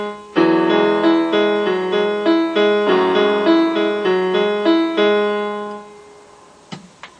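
Piano playing the verse of a song, a steady rocking broken-chord pattern with a melody on top, close and fairly loud, fading out near the end with no voices.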